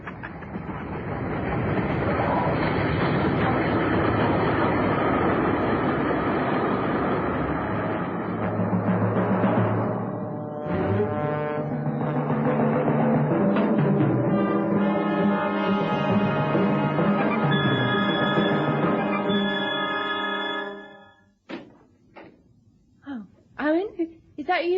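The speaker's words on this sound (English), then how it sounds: "Here comes the train." Approaching train in a radio drama: a loud rumbling roar with rhythmic rail clatter and a horn-like tone growing toward the end, then cutting off as voices begin.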